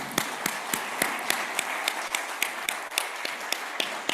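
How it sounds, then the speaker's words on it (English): A room at a closing ceremony gives a round of applause, sparse and rhythmic claps landing in a steady pattern like a small group clapping together, moderately loud with no talk. "I'm going to ask the room to give everyone on Zoom a round of applause."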